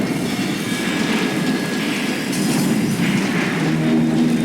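A train runs steadily in the video game Call of Juarez: Gunslinger, a loud continuous rumble with rolling wheel noise and faint metallic squeals, unbroken and close throughout.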